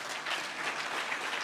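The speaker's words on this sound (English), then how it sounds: "A warm round of applause." Brief applause from an engineering convention audience in Mombasa, a steady wash of many hands clapping, fairly soft and distant for about a second and a half.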